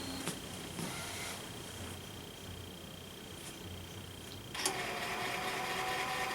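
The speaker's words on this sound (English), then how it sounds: "Right now you're hearing the cartridges. It's just going with the pressurized system for the inks." A quiet mechanical whir and hum from a DTG shirt printer's pressurized ink cartridge system runs steadily, with soft clicks and a louder, brighter mechanical whine kicking in near the end.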